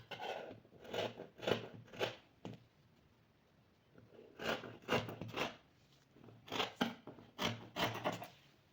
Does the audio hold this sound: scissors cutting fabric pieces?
yes